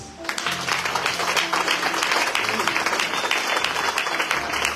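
A church congregation breaks into sustained, dense applause with scattered cheers, loud and close, while a voice carries on faintly underneath.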